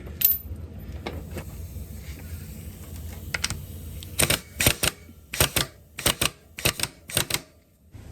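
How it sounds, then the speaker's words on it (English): A pneumatic air gun driving a bolt with a dome washer on a Husqvarna/KTM four-stroke motorcycle countershaft, a series of sharp close rattling bursts after a stretch of quieter handling noise. "before I go ahead and hit it with the"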